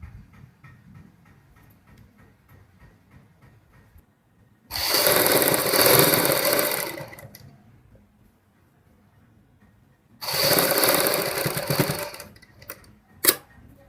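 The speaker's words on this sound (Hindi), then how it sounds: "इसमें हम एक एक सिलाई दोनों साइड फिर लगाएंगे" A sewing machine runs stitching elastic onto a saree belt in two loud, sustained bursts of whirring, with quieter handling clicks and ticks between and a sharp knock near the end, no voices.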